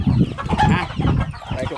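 Several chickens cluck close by in a short, busy burst of overlapping calls, a farmyard flock gathering around someone at feeding time.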